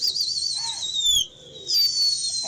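Soft pigeon calls and a high steady whistle-like tone over faint background noise, with a brief break partway through.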